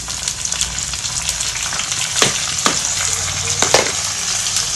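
Onions fry with tomatoes, green chillies and curry leaves in a pan, giving a steady loud sizzle with a few sharp scraping stirs, close up and without talk.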